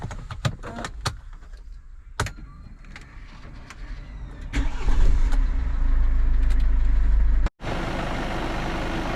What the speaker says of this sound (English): let's start the car, let's turn on the AC and see if we still hear any hissing noise